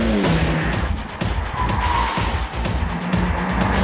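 A BMW M3 Touring drifts on a circuit, its engine roaring loud and close while the tires squeal in a continuous rough scrub.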